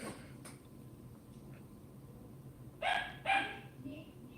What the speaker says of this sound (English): My dog is going bonkers